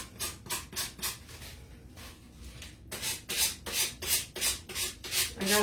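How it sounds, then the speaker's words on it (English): A sanding block rubbed back and forth to take off excess material on a fall decor craft piece, a close, rhythmic rasping of repeated strokes with a brief pause partway through. "I'm going to sand around here just to take off the extra that didn't fit"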